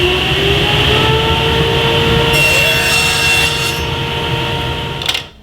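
A table saw rips wood with a GRR-RIPPER push block, cutting 1/4 inch by 1/4 inch strips. A steady, loud motor whine and blade cutting noise run throughout, then taper off near the end.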